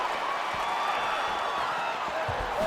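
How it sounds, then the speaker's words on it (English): A video game arena crowd roars steadily through a UFC women's bout between Weili Zhang and Amanda Lemos as an outside leg kick lands, a dense continuous swell of cheering with a commentator's voice over it. "can you hear the reaction from the crowd as another outside leg kick lands?"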